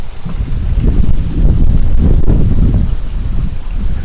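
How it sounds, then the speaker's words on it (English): Outdoor wind gusts at night near a tunnel at Howley Hall buffet the microphone with loud, low rumbling that swells and eases over a few seconds, with nothing else heard. "See, the wind's blowing and that's not even triggering it."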